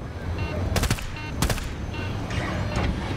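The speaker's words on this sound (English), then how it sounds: "Who's shooting us right now? We're under fire! It's a sniper." Sniper gunfire in Battlefield 2042: a few sharp, loud cracks stand out over a dense background of battle noise and scattered distant shots, with a voice briefly heard.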